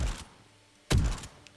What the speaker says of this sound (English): Very loud, bassy, punchy sound for this thing, firing with a suppressor.